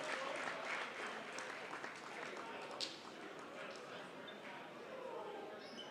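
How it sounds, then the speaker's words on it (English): Sustained applause from a crowd at a basketball game, steady and fairly distant, with a few louder claps and faint voices mixed in. "And a round of applause"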